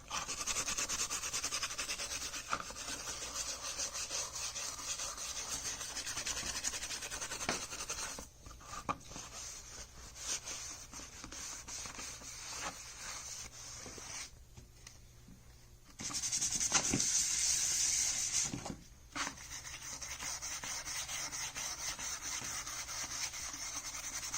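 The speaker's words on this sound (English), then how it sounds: "for the steel wool, I'm just using this as an applicator for the acrylic" Steel wool rubs acrylic paint onto a piece of costume armor, a continuous close scratchy swishing that carries on for long stretches, dropping out briefly twice before resuming.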